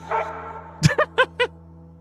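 Several sharp dog barks, one loud bark followed by three shorter yelping barks in quick succession, close by over a steady low hum with a faint voice at the start.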